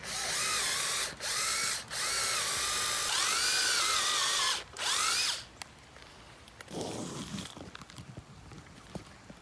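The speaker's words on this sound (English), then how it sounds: "now it's time to pre-drill" A power drill pre-drills wood for a DIY torii gate in four loud whining bursts, the third the longest, followed by softer clicks and handling sounds.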